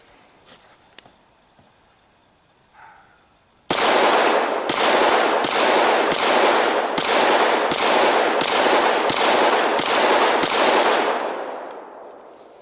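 SIG 556 and SIG 551 rifles fire at a shooting range, a string of about ten loud, evenly spaced shots after some quiet handling noise, the final shot's echo fading out.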